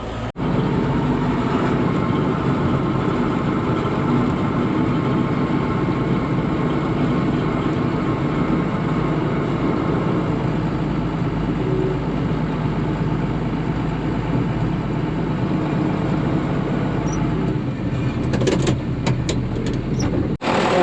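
A farm tractor engine runs at a steady idle close by before being parked in a barn, a continuous low mechanical rumble that holds for about twenty seconds, with a few clanks near the end.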